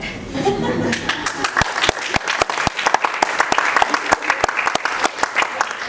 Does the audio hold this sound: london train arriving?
no